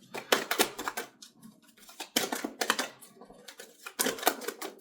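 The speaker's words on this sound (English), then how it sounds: "I'll give that a little shuffle." Rapid crisp papery flicking in bursts, tarot cards being shuffled close by, with short pauses between rounds.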